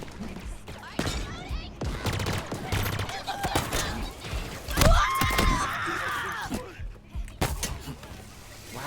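Anti-aircraft gun firing in a first-person shooter video game, a run of loud repeated blasts and bursts mixed with other gunfire and game effects, with someone talking over the action.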